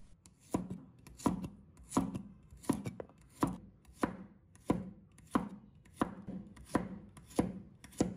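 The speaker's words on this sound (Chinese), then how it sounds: "再准备一把大蒜，把它切成片。" A knife slices garlic cloves into thin pieces on a board, about a dozen crisp, evenly spaced chops at a steady unhurried rhythm, close and clear with no voices.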